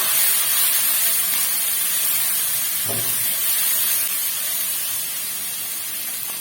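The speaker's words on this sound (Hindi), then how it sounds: "इसमें मैंने 1/4 कप ऑयल डाल दिया है। अब इसके अंदर लहसुन डाल दूंगी, अदरक डाल दूंगी और इसको मिक्स कर दूंगी" Garlic and ginger hit a quarter cup of hot oil in a pan with a loud, constant hiss, and a single short clunk sounds midway.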